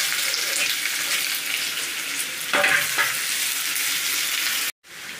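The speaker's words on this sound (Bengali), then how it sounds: "আর এখানে আমি একটা পেঁয়াজ ও রসুন আমি কুচিয়ে নিয়েছি, ভালো করে ফ্রাই করে নেব।" Chopped onion and garlic fry in a pan with a steady, loud sizzle as they are stirred. Brief scraping sounds come through partway, and the sound cuts off near the end.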